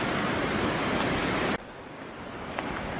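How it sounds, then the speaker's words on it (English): Water pouring over a weir on a countryside walk, heard as a steady, loud broadband rush that abruptly drops to a softer, more distant wash partway through, with no voices. "watching the water flood over the weir and down to the"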